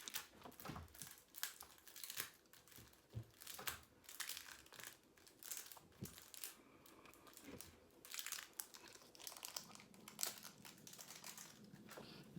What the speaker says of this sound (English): So I'll take out the packaging.